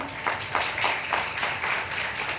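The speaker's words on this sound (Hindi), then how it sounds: "मुझे लगता है ऐसी बात पे ताली तो होनी चाहिए" Audience clapping at an inspirational talk show at a university, a short patter of hand claps in brief bursts, moderately loud against a steady room hiss, with no voices over it.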